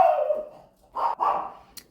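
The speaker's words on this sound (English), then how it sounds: "I'm trying to calm my dog down" A spoiled pet dog gives a couple of short, close barks and yips with a whimpering edge, loud and clear against quiet surroundings.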